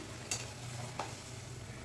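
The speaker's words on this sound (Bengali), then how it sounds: "দেখো ফুলকো ফুলকো লুচি ভাজা হচ্ছে" Luchi, puffed fried bread, crackling in hot oil, a dense continuous close sizzle with two brief sharper pops.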